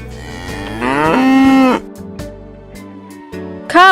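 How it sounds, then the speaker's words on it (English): A cow gives one loud, close moo that rises and holds for under a second, followed by quieter farmyard sounds. "Cow are important domesticated animal that provides meat and milk."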